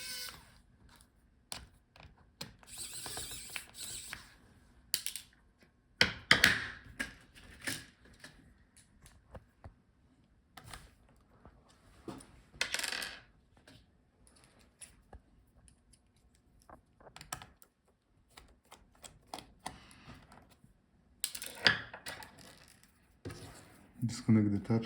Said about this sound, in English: Take out all the remaining screws.